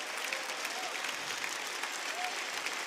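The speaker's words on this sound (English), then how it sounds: "Please give them a big round of applause" Steady, fairly faint applause from an audience at a Rainbow Six Siege game event, continuous clapping without a break, with a few cheers mixed in.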